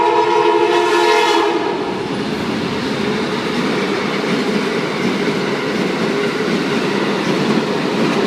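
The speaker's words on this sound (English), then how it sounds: "I believe this is an Amtrak. It's an Amtrak." An Amtrak passenger train rushes past in Pompano Beach, its horn blaring loud and close at the start before giving way to a steady roar and rhythmic wheel clatter as the cars sweep by.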